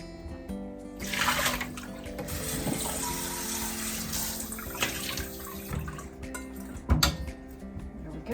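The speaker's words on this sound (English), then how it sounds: "wash all the little excess shell pieces off" Peeled boiled eggs are rinsed under a running kitchen tap to wash off leftover shell bits: a steady close stream of water splashing into a sink, with shifting splatter as the eggs are turned and a brief louder splash near the end.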